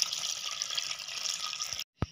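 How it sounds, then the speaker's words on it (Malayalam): Coconut milk, strained, pours in a steady liquid trickle into rice flour, then stops abruptly, followed by a single short drip or splash. "ഇതിലോട്ടൊന്ന് അരിച്ചങ്ങ് ഒഴിക്കാം."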